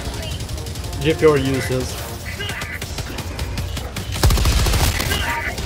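Sustained automatic gunfire from the video game Helldivers, a dense crackling barrage running through the whole stretch and swelling louder near the end, with players talking over it.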